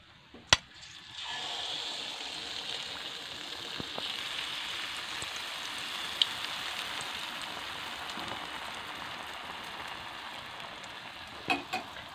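Ennayappam batter frying in hot oil, a soft continuous sizzle that starts after a clatter and holds steady at low volume, with a few light utensil clicks near the start and end.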